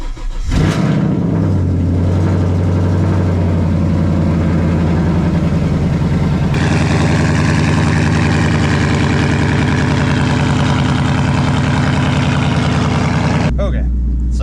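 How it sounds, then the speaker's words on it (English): A straight-piped Mustang cold-starts with a sharp crank and catch, then idles loud and rough nearby, stepping up to a louder, busier idle partway through before dropping back at the end. "I'm going to go ahead and start the Mustang"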